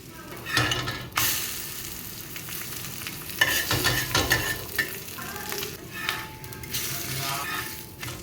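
Egg omelette frying on a very hot griddle, a soft continuous sizzle with intermittent scraping and clinks of a utensil against the pan; no talking.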